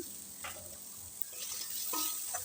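Noté greens frying with broken lentil bori in a pan, a soft continuous sizzle with light scraping stirs every half second or so, close and quiet.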